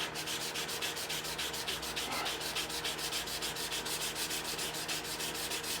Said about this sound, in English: I'm going to sand that off. I'm going to sand it off pretty good.